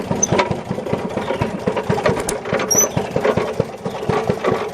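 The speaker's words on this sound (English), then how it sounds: "I almost need to give it a little more throttle. Seems like it's running a little slow." A Maytag Model 92 gasoline engine runs a washing machine slightly slow, chugging in a steady rapid popping rhythm close up, with a faint high squeak now and then.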